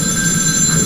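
A telephone rings in a video game, a steady electronic ring sustained evenly through the whole second with no voices over it.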